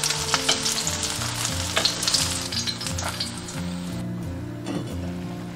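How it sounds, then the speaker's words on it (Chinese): Tofu pan-fries in hot oil until golden, giving a loud, continuous crackling sizzle with a few sharp spatters and utensil scrapes as the pieces are turned, with no one speaking. "把豆腐这样提前煎一下，等于它会更好的吸收那个汁，煎至表面就是这样金黄色的就可以了"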